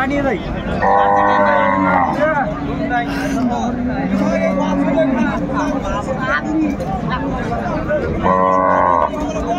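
Sahiwal cows and calves low at a busy cattle market, with several loud drawn-out moos standing out over a constant hubbub of crowd chatter.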